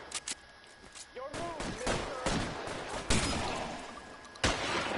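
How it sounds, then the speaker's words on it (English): Machine-gun fire in L.A. Noire, a quieter scatter of rapid shots and sharp cracks, with louder single bangs standing out against a steady game backdrop. "Oh, that's a machine gun."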